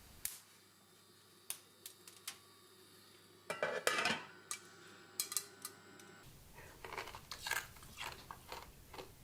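Crunchy roasted Australian native seeds being chewed close up, with scattered sharp crunches that become a denser run of bites midway, over a quiet background and with no talking.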